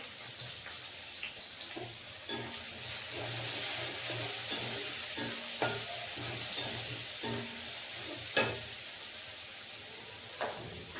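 Masala spice mix fries in a pan with a steady, soft sizzle and hiss, broken by occasional faint clinks and stirring taps.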